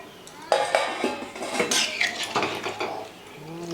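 Metal utensils clatter and scrape against a new wok in quick, irregular strokes while stirring fried cauliflower and potatoes, close up, with dishware clinks and no talking.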